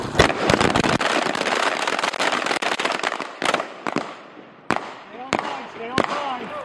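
Rifle and pistol shots ring out in rapid, dense volleys on a Marine Corps firing range at Camp Lejeune, North Carolina, then thin to a few sharp, loud single cracks with echoing tails.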